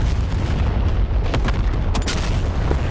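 Explosions from targets being hit in the DCS combat flight simulator. Several sharp blasts ring out over a loud, steady rumble of engine and battle noise.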